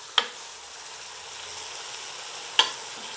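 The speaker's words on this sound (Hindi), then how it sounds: "फिर इसको वक्तन फ़वक्तन हमने पलटते रहना है, ताकि चारों तरफ से गोश्त अच्छी तरीके से भुन जाए" Beef pieces coated in masala frying in a pot for nali nihari, a soft continuous sizzle punctuated by two sharp knocks of the spoon as the meat is stirred and turned.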